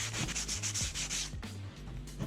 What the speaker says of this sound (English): Next, I roughen the surface with sandpaper so that the sealant has good contact with the